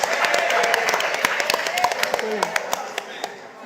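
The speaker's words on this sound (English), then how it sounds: "Give him a round of applause, please" Audience applause at a Grenada cultural and creative industries conference, a dense patter of many hands clapping steadily for a few seconds, with voices and a tonal call carrying over it.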